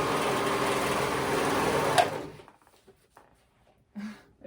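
Sewing machine stitching along the raw top edge of a maxi dress, a steady fast whir for about two seconds, then stopping abruptly into near quiet with faint handling noises.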